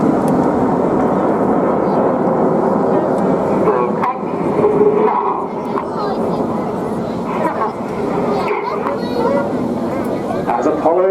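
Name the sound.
red aerobatic aircraft flying at Torbay Airshow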